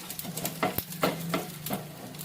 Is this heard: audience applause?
no